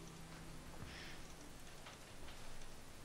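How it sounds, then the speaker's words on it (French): Steady rain falls in the video game ChronoTrap, a faint, even hiss of drops that holds at a low level throughout the clip. "à chaque fois que je retire la pluie, genre 5-10 minutes après, il repleut"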